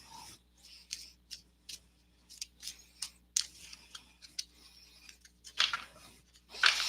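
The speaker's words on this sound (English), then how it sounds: "I always shuffle until the guides tell me to stop shuffling." Tarot cards are shuffled in a quiet room with a series of quick, crisp riffling and snapping bursts, irregular and close, with no talking.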